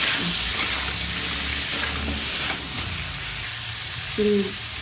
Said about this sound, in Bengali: এবার এটা নাড়াবো সামান্য।